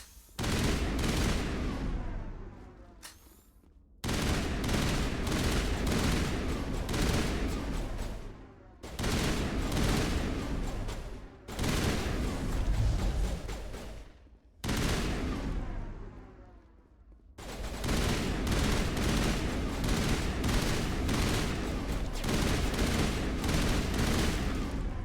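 Sustained bursts of pistol gunfire in the Mass Effect video game, loud and dense with rapid overlapping shots, broken by a few short pauses.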